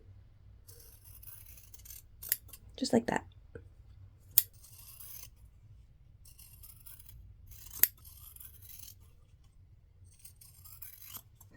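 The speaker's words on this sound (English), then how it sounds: "take my handy dandy scissors, and then I'm just going to aim down the middle" Quiet room with a few short snipping and scraping bursts of scissors cutting down the middle of quilt fabric, spaced apart, with a brief spoken remark.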